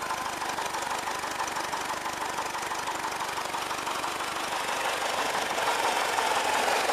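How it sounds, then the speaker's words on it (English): An electric cooling fan runs flat out in a 1979 Westfalia Bay Window camper, giving a steady, even whir with a faint rhythmic knock that stays constant throughout, close by and with no talking. "That's my fan blowing flat out"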